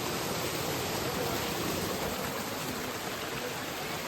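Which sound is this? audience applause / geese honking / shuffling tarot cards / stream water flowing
stream water flowing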